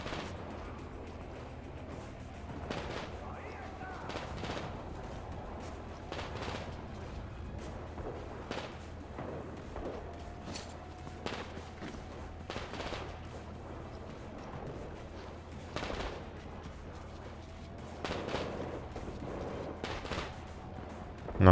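Gunfire in the video game Metro Exodus, repeated sharp shots and bursts spread across a constant low rumbling background, some closer and louder than others.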